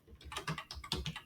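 Keys tapped on a computer keyboard while entering an email and password, a quick irregular burst of close, crisp clicks with no talking.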